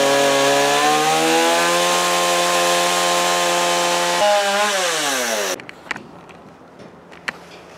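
A chainsaw carving an eagle sculpture from wood runs loud and close at steady high revs, then drops in pitch as it bites into the wood before cutting out into quiet with a few faint knocks.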